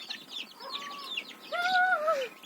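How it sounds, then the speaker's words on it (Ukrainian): Several chickens and chicks cluck and chirp close by, with a rising, drawn-out call near the end over a faint farmyard background. "Тут у нас великі курчатка, одне тільки лишилося."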